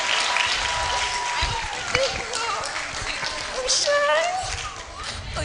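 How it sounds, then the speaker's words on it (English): An audience at a law faculty roll call ceremony claps in sustained, dense applause, with a voice speaking over the clapping and some cheering rising toward the end. "A round of applause for our beautiful ladies."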